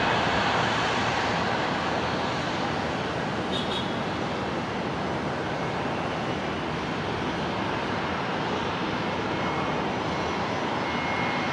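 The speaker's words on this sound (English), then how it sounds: "Arriving from Perth, the 737 Classic, the 400." A Boeing 737-400 Classic jet arriving at Brisbane International Airport from Perth roars steadily as it passes, a loud, broad engine rumble that holds evenly throughout with no voices over it.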